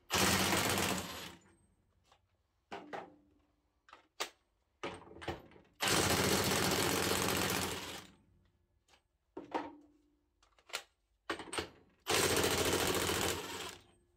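Three bursts of a Parkside Performance PASSP 20 Li cordless impact wrench hammering loose bolts at its 130 Nm setting, each a loud rapid rattling run of a second or two, separated by clicks and handling knocks.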